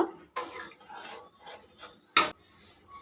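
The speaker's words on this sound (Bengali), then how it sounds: "আলুগুলো আরেকবার খুব ভালো করে মিশিয়ে নেব।" A spoon scrapes and stirs fried potatoes in a pot for Kashmiri aloo dum, with a few separate rasping strokes and one sharper clank against the metal, close and otherwise quiet.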